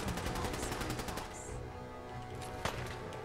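Rapid bursts of gunfire in the video game Fallout 4 over a steady background bed of game sound, with a sharp impact near the end.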